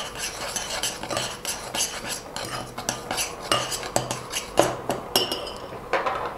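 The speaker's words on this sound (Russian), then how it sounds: "Перемешиваю бальзам с солью." A spoon clinks and scrapes repeatedly against a small container while stirring thick hair balm mixed with salt, close by, with no speech.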